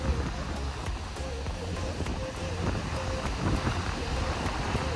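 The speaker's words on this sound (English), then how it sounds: "The sound of water, the birds chirping in the air" Lake waves lap steadily at the shore in Port Hope, a continuous broadband wash with some wind rumble, while faint voices murmur in the background.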